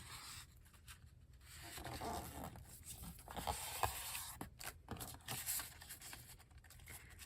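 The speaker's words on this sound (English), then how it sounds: "I'm just folding" Quiet rustling and creasing of paper as signature pages for a paper journal are folded by hand, soft irregular scrapes and rubs close by with no talking.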